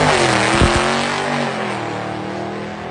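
Hellcat-swapped 1000 hp Chrysler 300 accelerating hard, heard from inside as a loud, steady engine roar with rising harmonics and a couple of sharp shift-like breaks early on, filling the whole stretch without talk.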